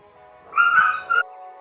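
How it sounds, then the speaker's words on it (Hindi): Dogs fighting nearby let out a brief, high yelping whine, loud and close, rising and breaking off within about a second. "पीछे डॉग फाइट हो रही है"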